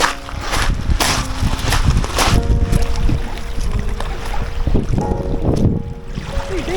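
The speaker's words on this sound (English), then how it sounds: "Now we're off on a little boat trip." A small boat on a Chilean boat trip near Chiloé rumbles steadily across the water, with a continuous engine drone, wind buffeting and splashing close to the microphone.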